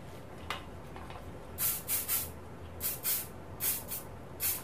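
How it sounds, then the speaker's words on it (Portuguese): Hairspray misting onto styled hair in a salon, several short hissing bursts in quick succession, close and fairly loud against a quiet background with no talking. "Tu usa bastante spray, né?"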